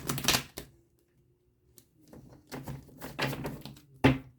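Tarot cards are shuffled in quick, papery bursts: a riffle at the start, a pause of near silence, then a longer run of soft shuffling and a sharper snap at the close.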